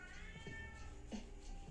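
A cat meows in a drawn-out, wavering cry, fairly close and clear over low room hum, with no one speaking.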